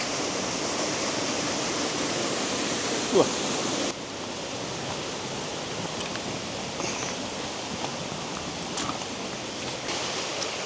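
Catrigg Foss, a waterfall in Yorkshire, gives a continuous rushing roar of falling water, close and steady, dropping slightly in level partway through.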